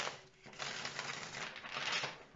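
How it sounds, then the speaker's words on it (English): Tarot cards are shuffled by hand in a short burst of quick papery riffling and flicking, close and fairly soft, with no talking. "let's start shuffling"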